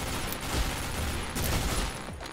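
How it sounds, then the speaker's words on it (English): Rapid, loud shotgun blasts roar back to back in the rogue-like shooter OTXO, a dense continuous barrage filling the whole moment. "This shotgun's so crazy."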